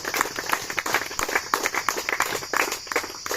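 Brisk clapping from a crowd at a cricket tournament closing ceremony, a steady patter of many hands that stays fairly close and even for a few seconds.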